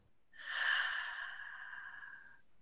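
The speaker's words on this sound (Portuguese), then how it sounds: "enchendo bem o pulmão, estendendo o abdômen e soltando pela boca" A single deep breath pushed out through the mouth, a close, steady breathy rush lasting about two seconds before trailing off.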